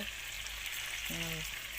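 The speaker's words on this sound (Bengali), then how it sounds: "আমি আলু পটল পটলগুলি ভাজা করে নিচ্ছি" Potato and pointed gourd pieces fry in hot oil, a dense steady sizzle filling the whole moment with a brief tonal sound partway through.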